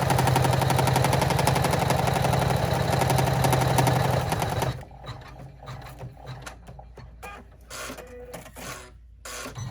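A sewing machine top stitches the front of a zipper bag clutch, running a fast, loud, rapid mechanical rattle for about five seconds before stopping, leaving quieter handling noises afterward.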